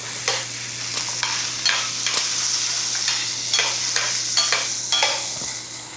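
Tomatoes cook in a pan after onions, a steady sizzle with a low hum underneath and scattered spoon scrapes and stirring knocks at an irregular pace, close by.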